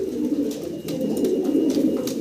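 Several pigeons, including a male and female almond-coloured pair of a big imported-looking breed, coo together in a continuous low rolling burble, close and clear, with no talk over it.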